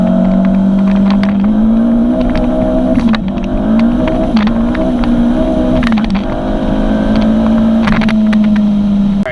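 K-swapped Mini Cooper at full throttle with wheelspin, a loud, steady, droning engine note holding near one pitch throughout, with faint sharp ticks layered over it.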